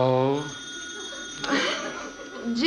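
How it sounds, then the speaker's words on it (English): A telephone rings in a home, a bell-like ring sounding between and under brief spoken voices and a soft chuckle. "the phone's ringing"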